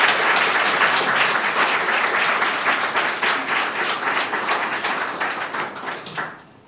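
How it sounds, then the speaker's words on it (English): An audience at a McGill university talk applauds warmly, dense clapping that stays loud for several seconds before thinning out and fading. "Can we have a round of applause?"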